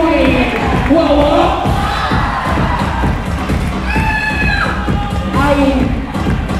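Loud crowd at a kiki ball awards night cheers and shouts continuously, with whoops, chatter and claps blending into a dense, steady roar from nearby.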